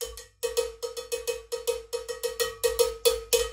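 A drumstick plays a cowbell in a steady run of about fifteen sharp, clanking strokes after a short pause, the hits close and ringing, with some accented louder than others.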